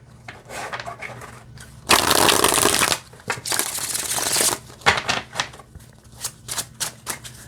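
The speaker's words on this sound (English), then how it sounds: "it shuffles just like cardstock, like regular cardstock" Black and gold holographic tarot cards are riffled and shuffled in loud, crisp bursts, followed by lighter flicks and taps of handled cardstock.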